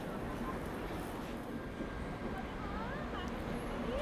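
Duronto Express train pulling out of Bhubaneswar station, a steady continuous rumble of rolling stock with faint wheel squeal, heard under station ambience and a speaking voice.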